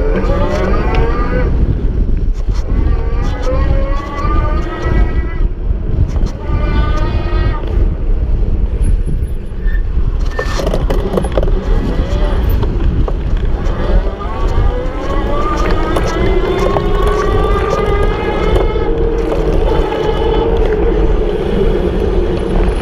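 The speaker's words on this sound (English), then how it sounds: "I'm gonna pedal, I'm gonna stop, listen for the motor." Geared hub motor of a Rad Power RadMini compact folding fat-tire electric bike, a whirring whine that rises and falls in pitch as the rider pedals and stops, with wind buffeting the microphone throughout.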